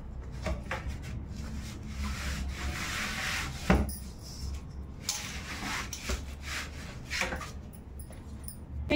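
Dough being kneaded by hand for papaya puri, with a little extra flour worked in, giving soft irregular rubbing and pressing strokes that are close and quiet, with a faint knock near the middle.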